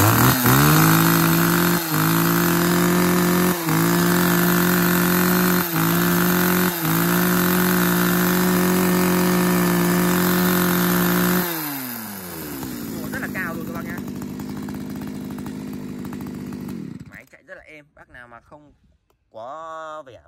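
A used Japanese ECHO Shindaiwa chainsaw engine runs loudly at high revs, then drops to a rough idle before cutting out, followed by a brief restart burst near the end.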